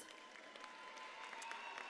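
Graduation ceremony audience applauding in a large hall, a steady, even patter of many hands clapping, somewhat distant and continuous throughout.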